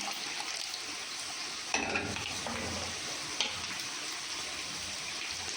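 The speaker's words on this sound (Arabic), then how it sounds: "ونحط عليها الميه اللي احنا غليناها عليها" Boiled water poured over meat in a hot pot, giving a steady close hiss and bubbling sizzle with a couple of sharp splashy bursts and no talking.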